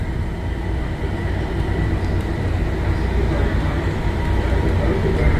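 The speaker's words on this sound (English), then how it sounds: "And there goes the other train." A loud, continuous rumble of a Bangkok Gold Line train rolling past close by, a steady roar of wheels on track throughout.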